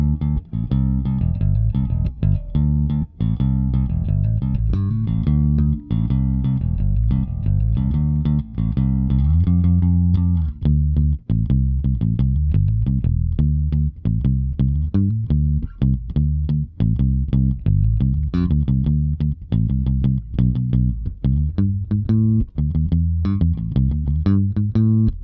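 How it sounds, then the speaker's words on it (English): A Squier Paranormal Rascal bass guitar is played with a pick through the neck pickup, giving a continuous run of plucked notes, some sustained and some quick and percussive, loud and up close with no talking. "Then with a pick, so wide open with a pick."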